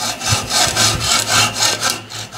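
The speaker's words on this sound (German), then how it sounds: "Nun lasse ich diese Blechkante das Sägeblatt führen, drücke es also etwas in Richtung dieses Blechwinkels und säge hier fröhlich den Streifen ab." A fine-toothed hand saw cuts a strip off along a sheet-metal edge that guides the blade, making loud, close, rhythmic rasping strokes, about seven back-and-forth pulls in steady succession.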